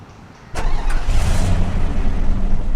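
A car in the video game Free Fire starts up with a sharp onset and then drives on with a steady engine drone, loud and close, with no talk over it.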